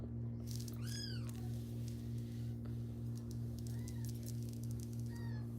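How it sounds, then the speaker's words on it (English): An adult cat and small kittens meowing indoors, a few short rising and falling mews spaced apart, over a loud, steady electrical hum. "Y'all hear my cat and the little kittens over here"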